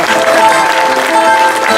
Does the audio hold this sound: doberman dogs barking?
no